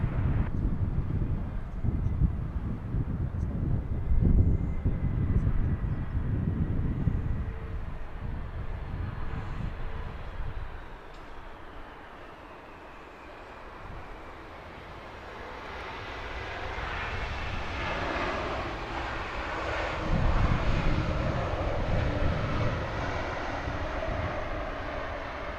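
DHL cargo aircraft at London Heathrow Airport, a heavy engine rumble that dips midway and then rises into a broad, whining roar with some wind buffeting, close and without talk.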